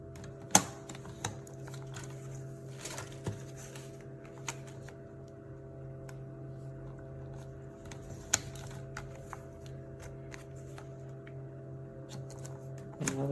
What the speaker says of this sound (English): And trimming on the sides at 1/4 of an inch.